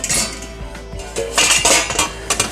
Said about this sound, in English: The cake pan is still hot when it's time to flip the cake.